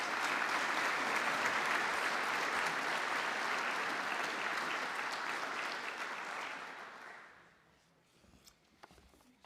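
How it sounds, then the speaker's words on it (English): Audience applause at a university senior honors program, a full room clapping steadily for several seconds, then fading quickly into near quiet with a few stray sounds at the end. "So if you give her a round of applause,"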